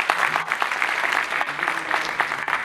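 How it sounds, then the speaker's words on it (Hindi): Audience at a heart health seminar applauding, a steady, dense patter of many hands clapping in a hall for a few seconds, with no talking. "तो एक बार जोरदार तालियां सर के लिए।"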